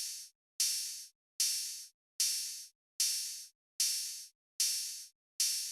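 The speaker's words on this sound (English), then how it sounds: "Next thing we got is the open hats." Open hi-hats from a dark orchestral beat: eight long, sizzling washes falling on a steady, even pulse, each ringing out before the next strike, alone and upfront.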